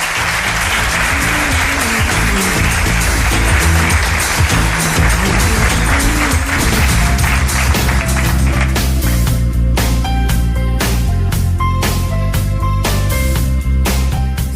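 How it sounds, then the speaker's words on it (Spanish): Audience applause closing a live radio show recorded before a public in a cultural hall, dense sustained clapping filling the whole stretch, loud and close, with music tones running underneath. "Os pido un aplauso para todos ellos"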